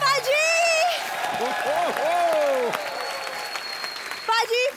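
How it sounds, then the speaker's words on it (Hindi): A studio audience at an Indian comedy talk show bursts into sustained applause, loud and steady, while a voice speaks over the clapping. "जोरदार तालियां सिद्धू पाजी के लिए।"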